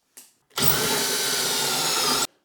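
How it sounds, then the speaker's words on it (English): A power drill making pocket holes with a Kreg jig whirs briefly, then runs at full, steady speed for nearly two seconds before stopping, loud and close. "I'm going to use the Krig jig and just drill out about 5 or 6 of these holes"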